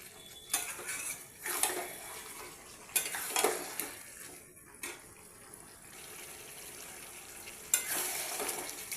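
Goat meat stir-fried in a pan, with faint sizzling beneath intermittent scraping and clinking of a utensil against the pan at irregular intervals.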